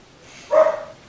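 A single loud bark from a guard dog at a campsite, one short sharp woof close by against a quiet background.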